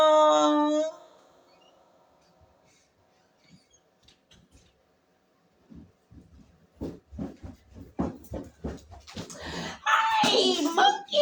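A dog excitedly greets its returning owner, a burst of loud, high yelping whines at the start, then quieter sounds before rising talk and excited vocal noise close by; people speak throughout.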